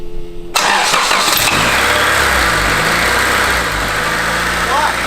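A cheap used Honda Civic with a VTEC engine and straight-cut gears cranks and fires up loudly, then settles into a harsh, steady idle that stays close and dominant. A voice may speak faintly underneath.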